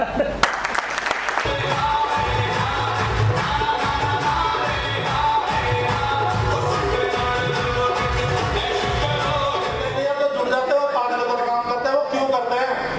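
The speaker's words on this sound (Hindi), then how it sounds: "ताली मार दो।" An audience claps at a network marketing leadership training session in Haridwar, a steady, full wash of applause lasting many seconds, mixed with a voice and tonal music underneath.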